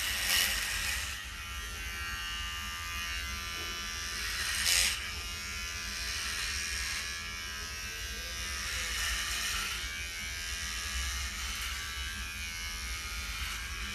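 Electric shaver buzzing steadily during a smooth shave, a close, continuous motor drone that swells slightly as it presses against skin, with no one speaking.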